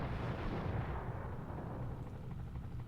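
A guard tower blown up in the Desert Strike helicopter game: a deep, rumbling explosion that starts strong and slowly fades over a few seconds, heard alone with no talking.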